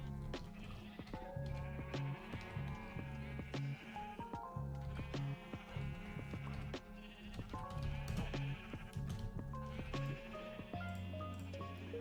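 Sheep in a video game bleat repeatedly over looping game music, with several bleats spread across the stretch at moderate loudness and no talking.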